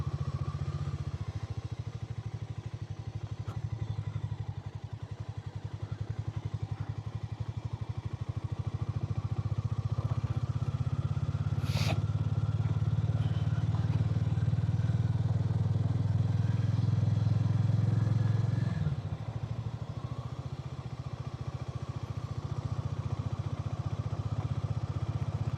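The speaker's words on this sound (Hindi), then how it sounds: "अभी धीरे धीरे ही चलाएंगे ताकि बाइक थोड़ी वार्म अप हो जाए।" A motorcycle rolls slowly while its engine warms up, giving a steady mid-pitched thrum that rises gently in revs, then drops near the end, with a faint clink partway through.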